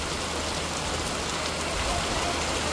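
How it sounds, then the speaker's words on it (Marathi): Heavy rain pours down outdoors in a strong, windy storm, a dense, steady hiss that fills the whole space, close and loud with no voices over it. "खूप सारा पाऊस येतोय"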